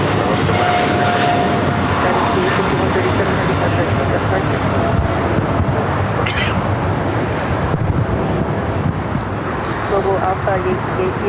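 A United Airlines Boeing 787-9 Dreamliner at LAX gives off a steady, loud broadband jet roar that fills the whole stretch, with radio voices talking over it.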